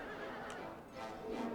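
Horse archers whinny in the Medieval Kingdoms 1212 strategy game, a single loud neigh amid clip-clopping hooves and battle ambience.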